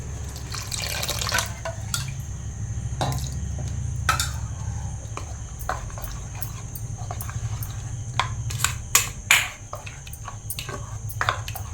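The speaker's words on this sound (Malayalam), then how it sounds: "നമുക്ക് കുറേശ്ശെ പാലിനി ഒഴിച്ച് പൈനാപ്പിളോട്ടൊന്ന് മിക്സ് ചെയ്ത് കൊടുക്കാം" Cold milk poured in small amounts into pineapple while preparing Kerala-style pineapple payasam, with steady liquid pouring and dripping, clinks of utensils and a low background hum, close and fairly quiet throughout.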